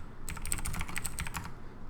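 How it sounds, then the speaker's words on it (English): Fingers tap out commands on a computer keyboard in a quick, close run of crisp key clicks lasting about a second, with no talking. "You can type your commands like that"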